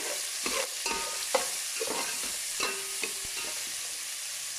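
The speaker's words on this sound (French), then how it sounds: "je vais faire revenir les oignons et l'ail." Onions and garlic fry in a pan with a gentle, continuous sizzle. A utensil scrapes and stirs through the pan every second or so, close and fairly quiet.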